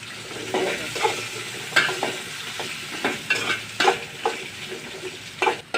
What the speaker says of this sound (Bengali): ওই তেলের ভিতরেই আমি এখানে আলুগুলো একটু ভাজা দিয়ে নিব আর কি